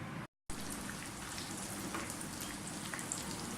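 Potatoes shallow fry in hot oil for a Kashmiri dum aloo, a steady dense sizzle and crackle heard up close, interrupted by one brief silent gap near the start.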